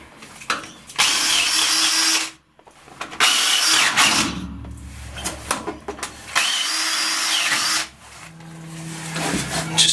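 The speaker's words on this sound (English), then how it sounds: "I'm just going to drill out the paint from the holes here on the stern gland" A power drill clears old paint from the bolt holes on a boat's stern gland, running in loud sustained whirring bursts with short stops and clattering between them.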